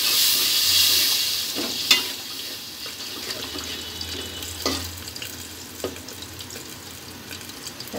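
Spice paste fries in oil in a pan with a steady close hiss and sizzle, punctuated by occasional stirring scrapes and clicks.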